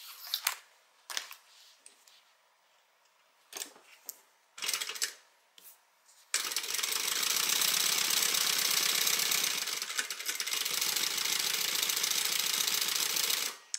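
A sewing machine stitches a half-inch seam on a tote bag after a few short clicks and handling noises, then runs loud and continuous with a fast mechanical chatter for about seven seconds.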